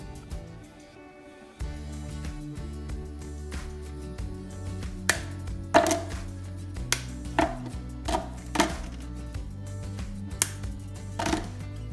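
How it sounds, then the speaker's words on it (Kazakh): A knife chops chocolate finely on a board for a whoopie pie recipe, striking in a string of sharp, close, irregular taps over a low steady hum in a home kitchen. "ыдысымызға майдалап аламыз."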